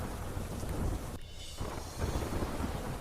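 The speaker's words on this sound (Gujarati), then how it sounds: "અમદાવાદના અનેક વિસ્તારમાં ધીમી ધારે વરસાદ" Rain pours steadily in Ahmedabad while low thunder rumbles through, the downpour easing for a moment and then surging back.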